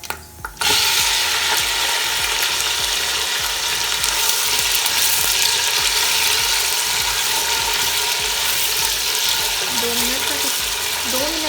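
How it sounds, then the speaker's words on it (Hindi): Chicken pieces are dropped into hot oil with light-browned ginger-garlic paste for chow mein. A brief clatter gives way to a loud, continuous sizzle close by. "अब इसके अंदर हम चिकन को ऐड कर देंगे।"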